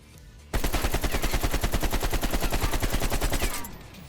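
AK-47 rifle in Black Ops Cold War fitted with a Microflex LED sight, firing one long full-auto burst of rapid, evenly spaced loud shots for about three seconds, then a short tail of echo.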